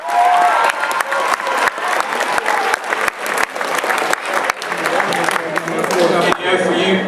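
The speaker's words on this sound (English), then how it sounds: "How about a round of applause for your head football coach?" A school signing-day audience gives sustained loud applause for their head football coach, with scattered cheers, steady dense clapping throughout that thins slightly near the end.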